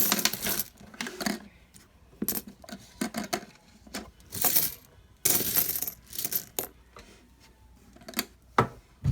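Coins clinking and dropping into a jar of mixed finds, including toned and holed coins, in repeated bursts of sharp metallic clatter and jingling, near and fairly loud, with short pauses between handfuls.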